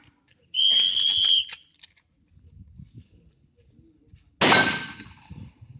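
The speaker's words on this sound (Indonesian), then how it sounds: "Jarak 20 meter, 10 butir munisi. Waktu 2 menit. Pandang dan tembak." At a military shooting competition on a 20-metre range, a high whistle blast sounds for about a second, followed after a pause by a single sharp, loud gunshot with a short decaying tail.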